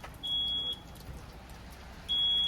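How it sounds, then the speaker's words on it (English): A smoke alarm gives two sharp, high-pitched electronic beeps, each about half a second long and spaced well apart, over a quiet indoor background hiss. "Oh, the smoke alarm."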